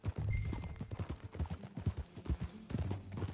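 Hooves of a ridden horse clop in a quick, uneven rhythm in Red Dead Redemption 2, close and clear with a few brief gaps, alone without talk.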